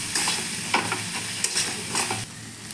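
Ground coriander, salt and turmeric stir-fried in a pan for Bengali cabbage curry with fish head: a continuous close sizzle broken by several scraping stirs of the spoon, no talking.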